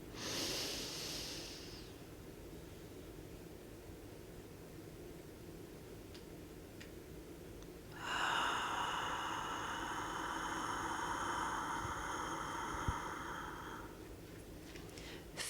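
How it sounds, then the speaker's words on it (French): A slow breathing exercise: a soft nasal inhale fades into a long quiet hold, then a long steady airy exhale lasting several seconds, close and alone without talk. "on inspire 4 secondes par le nez, on garde la respiration pendant 7 secondes"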